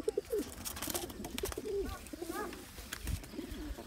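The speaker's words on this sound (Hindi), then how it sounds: "बेहतरीन उड़ने वाले कबूतर है।" Rampuri pigeons coo softly in low repeated phrases, mixed with a few chirps and faint background bustle, fairly quiet and close.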